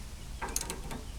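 A ratchet tightens a castle nut on a utility or boat trailer wheel bearing, giving a quick run of about five faint metallic clicks over quiet background, no voices.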